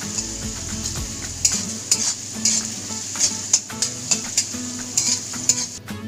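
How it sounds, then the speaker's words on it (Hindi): Capsicum stir-fried in a kadai for veg Singapore fried rice sizzles steadily while a spatula scrapes and clinks against the metal in a repeated rhythm, close and fairly loud. "कैप्सिकम हमें 3 से 4 मिनट फ्राई करनी है"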